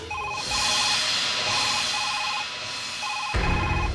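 A telephone rings in repeated electronic bursts, loud and close, with a steady high tone running beneath and a low rumble at the end.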